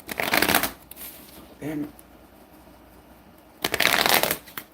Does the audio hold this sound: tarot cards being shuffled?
yes